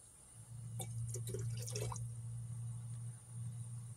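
Nitric acid poured onto gold plated pins, starting with about 10 milliliters, makes a brief close trickle and splash of liquid for around a second and a half, then faint quiet follows.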